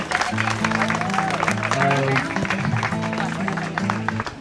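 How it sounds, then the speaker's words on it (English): Applause for the four judges of a New Jersey peach pie contest, with steady crowd clapping running throughout, mixed with sustained tones and a voice speaking over it. "We can give them a round of applause, please."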